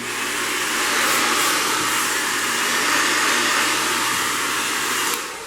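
A heat gun blows hot air onto faux crocodile fabric being molded onto a barstool, producing a loud, steady, close whooshing roar that runs for several seconds and then begins to wind down.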